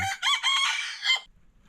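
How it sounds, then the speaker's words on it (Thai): A rooster gives one loud, close cock-a-doodle-doo, a rising multi-part crow lasting just over a second, followed by quiet rural background. "ไก่ตัวหนึ่ง"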